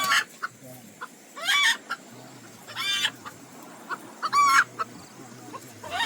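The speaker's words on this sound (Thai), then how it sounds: "ไก่กำลังฟักอยู่ไปซ่องเบิ่งแล้วมันตกใจ" A brooding hen on a nest in a forest smallholding of the Lahu hill people clucks in several short, startled bursts, close by and loud against a quiet rural background.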